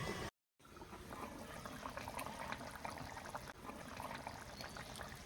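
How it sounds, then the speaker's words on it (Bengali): Fish curry gravy bubbling at a steady boil in a covered pan, a continuous close simmering hiss and bubble with a brief gap near the start, no talk. "ঝোলটা এখানে ফুটতে শুরু করেছে"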